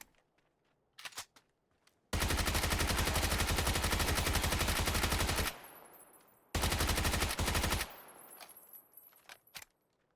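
Two long bursts of sustained automatic fire from a Bison SMG in a shooter game, each lasting a few seconds, loud and close, with brief clicks and a ringing tail between and after the bursts.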